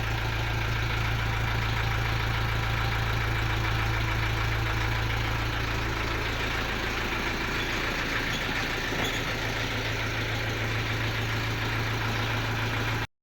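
A YTO 354 tractor engine idles steadily with a deep, continuous diesel rumble and hum, close and constant throughout, with no talking.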